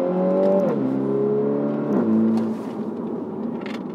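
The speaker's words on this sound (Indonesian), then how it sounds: "masuk gigi kedua, kita gaspol." Mini Cooper F56 engine accelerating hard in second gear in manual mode, its revs climbing in a rising whine with two shift dips before the sound settles to a lower steady drone, no talking.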